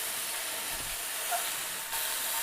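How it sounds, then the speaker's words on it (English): Ground turkey sizzles in a pan, a steady broadband hiss that holds evenly throughout the short stretch with no other sounds. "you're gonna go ahead and start cooking up the turkey"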